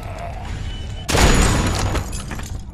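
A sudden loud gunshot blast in The Walking Dead: 400 Days game, a sharp crack followed by a ringing rumble that decays over about a second.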